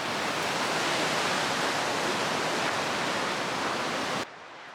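Flowing creek water makes a loud, steady broadband rush close by, then drops sharply in level near the end.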